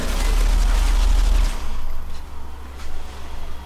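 Heavy gunfire in Modern Warfare 3 Spec Ops, a loud dense burst of rapid shots for about a second and a half, followed by scattered weaker shots and rumble.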